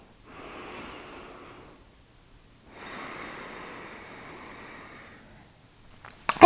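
Two long, deep breaths during a yoga stretch, each a broad airy inhale or exhale of about one and a half to two seconds, close and moderately loud, separated by a brief pause, with a small bump at the end.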